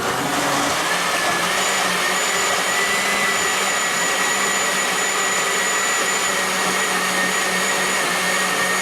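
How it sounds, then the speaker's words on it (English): A food processor runs steadily while blending banana and pecan chia seed pudding, a constant loud whirring motor drone with a faint high whine, unbroken and without talk. "So, get our food processor here on top."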